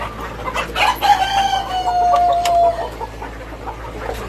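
A desi rooster crows loudly nearby, one long drawn-out call, with hens clucking around it before and after on a poultry farm.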